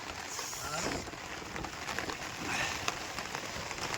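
Continuous heavy rain pours down, a dense hiss throughout with faint talk mixed in.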